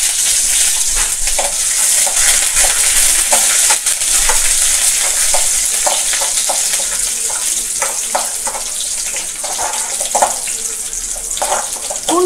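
About ten garlic cloves and a sprig of curry leaves fry in hot oil for a Tamil kulambu, giving a loud, constant sizzle and crackle up close, with faint scraping stirs throughout.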